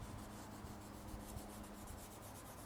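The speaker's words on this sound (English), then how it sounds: "I'm just going to give it a quick rub over with some wet and dry just to flatten it down a little bit" A motorcycle fuel tank on a Honda CBR750 K4 being rubbed down by hand with wet and dry sandpaper, giving a steady, quiet, continuous scratchy rasp with slight rhythmic strokes and no talking.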